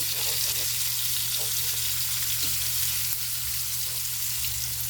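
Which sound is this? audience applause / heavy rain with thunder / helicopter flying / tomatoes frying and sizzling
tomatoes frying and sizzling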